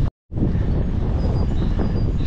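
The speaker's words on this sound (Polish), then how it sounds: "Lodowaty wiatr z północy." Icy north wind buffets the microphone in a steady rushing roar after a brief dropout at the start, constant and close.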